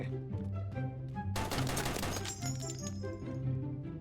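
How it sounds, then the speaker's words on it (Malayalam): Gunfire in a Malayalam horror-style video game: a short burst of sharp cracks erupts midway through the clip over tonal game music, standing out moderately against the steady background score, with no talking. "എവിടുന്നോ നല്ല വെടി വരുന്നുണ്ട്"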